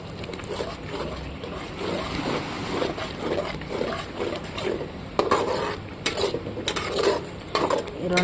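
A spoon stirs tomato rice with chili powder and garam masala in a pot, making a continuous scraping, rustling sound with occasional sharper knocks against the metal.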